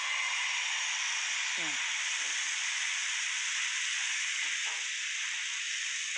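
Dosa batter sizzles on a hot pan for an instant dosa, a steady broad hiss running loud and unbroken throughout with a few faint clinks beneath it.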